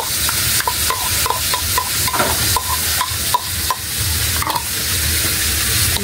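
Garlic and onion being stirred in a hot pan, loud steady sizzling with repeated scraping strokes of a utensil at a regular rhythm, close and unvoiced.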